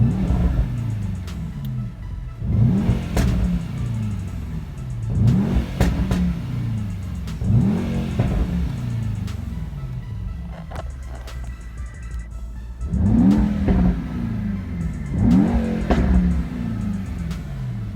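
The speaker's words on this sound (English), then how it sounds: "I'm gonna rev it again just to show you there's no justification." A 2019 Mercedes E63S 4MATIC revs hard while stationary, its engine flaring up and falling back in about six loud, separate bursts with idle between them and no talk.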